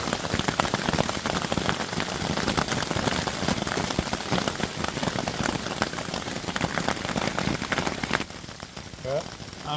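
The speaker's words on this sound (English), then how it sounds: "what it's like to be in a thunderstorm in a hammock tarp" Heavy thunderstorm rain drumming steadily on a hammock tarp, a dense close patter of drops that stays loud throughout and eases slightly near the end.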